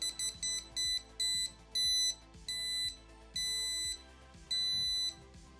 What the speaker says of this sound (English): as we move it in, the beeps progressively pick up